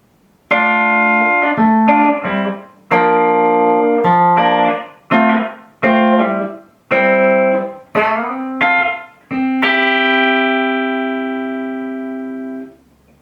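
Electric guitar strums a sequence of movable partial chord shapes, about nine chords in a rhythmic pattern, clean and close, each chord cut short except the last, which rings out and slowly fades.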